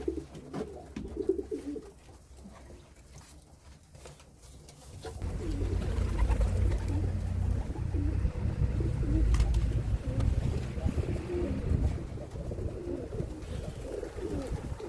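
Pigeons coo repeatedly in a low, throaty chorus, growing louder and fuller after the first few seconds, with faint chirps and rustling around them.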